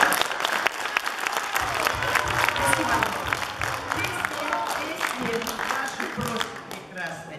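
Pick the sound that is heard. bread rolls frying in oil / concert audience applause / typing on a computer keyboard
concert audience applause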